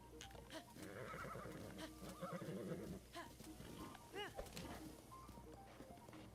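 A horse whinnies with a rising, wavering cry in the Breath of the Wild video game, over windy ambience, hoofbeats and soft game sounds, with a voice talking at moments.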